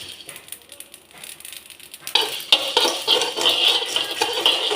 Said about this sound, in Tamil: கடுகு வெந்தயம் காஞ்ச மிளகா போதும். இதை நல்லா வறுத்து எடுத்துக்கிட்டேன்.